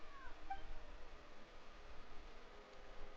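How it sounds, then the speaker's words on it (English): A cat meows in the Genshin Impact video game, a short soft mew set against a steady bed of background game noise, with no voices. "Even a passing cat can't help but stop in its tracks and look up in anticipation."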